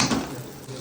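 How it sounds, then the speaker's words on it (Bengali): Butter and a little oil sautéing in a pan, with a soft, close sizzle and brief clinks of a utensil against the pan, heard alone for a moment. "এই দুটো সাথে করে নেব আমরা বাটার দিয়ে সাথে করবো কিন্তু বাটারটা যাতে ডাইরেক্ট না পুড়ে যায় তার জন্য আমরা একটু তেল দেবো"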